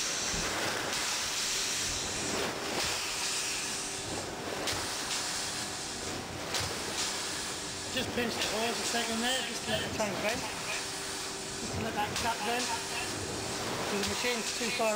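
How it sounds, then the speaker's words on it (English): Steady hiss and rushing air from a Pulsair PETM2002W portable mixer injecting air into a 12-tonne wine ferment, with bubbling surges in bursts over a constant hiss and some background noise. "What we're watching here is a portable Pulsair mixer, the PETM2002W, being used in a 12-tonne ferment"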